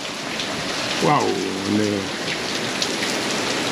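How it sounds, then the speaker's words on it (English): Heavy rain pours steadily on a sailboat during a storm at sea, a dense continuous hiss close around, while a voice briefly exclaims partway through. "The rain is just coming in closer and closer."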